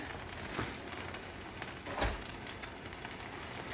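Frozen chopped onion sizzling in a pan at a steady crackle, with a couple of louder stirring clunks mid-way and no voices.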